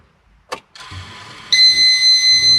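A Nissan Skyline V35 engine cranks and fires after a brief click, then settles into a loud, close idle with a steady high-pitched whine and a rhythmic pulsing rumble.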